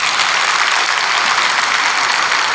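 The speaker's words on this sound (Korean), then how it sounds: "박수 한번 쳐주십시오" A congregation applauds during a Korean church worship service, a full, steady roar of many hands clapping at close range, sustained evenly throughout with no talking.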